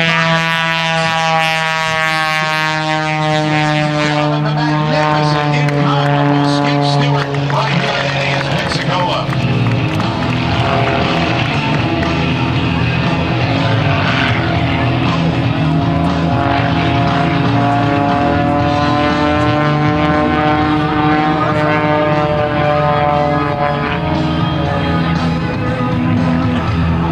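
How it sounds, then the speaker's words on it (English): A propeller aerobatic plane at the 2011 Blue Angels Homecoming Airshow performs knife-edge flight, its engine droning loudly and steadily with the pitch sweeping up and down throughout, while an announcer talks over it. "He goes into knife-edge flight."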